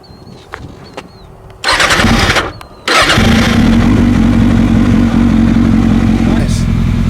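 A big motorcycle engine starts with a loud cranking surge that briefly drops away, then catches and settles into a loud, steady, rumbling idle while warming up, after a few quiet moments of light handling noise.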